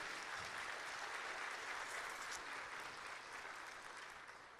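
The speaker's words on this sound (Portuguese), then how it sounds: "Uma salva de palmas para ela." Church congregation applauding during a service, a faint, steady wash of many hands clapping that tapers off slightly toward the end.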